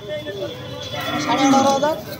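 Bulls at a cattle market low and moo in drawn-out calls, one loud nearby bellow rising over a murmur of crowd voices.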